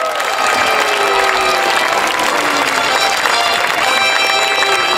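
Crowd at the Laxenburg knights' festival cheering and clapping loudly for the winner of a jousting discipline, a sustained wash of applause with shouts and whistles mixed in, close and busy throughout.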